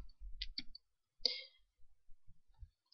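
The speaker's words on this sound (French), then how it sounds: "On clique." Several sharp, close computer mouse clicks at a desk during keylogger debugging, a quick pair early on, then a louder single click followed by faint scattered taps.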